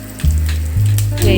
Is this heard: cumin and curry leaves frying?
yes